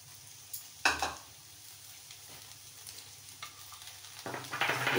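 Fried soybeans and slit green chillies are tossed and stirred in a hot pan for soybean pulao, giving soft sizzling and a few scraping clinks of the spatula that build toward a louder, steady fry.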